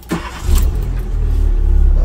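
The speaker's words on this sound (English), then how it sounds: "Start the engine." A Renault Twingo Mk1 engine cranks over and catches, then settles into a steady, close, rumbling idle.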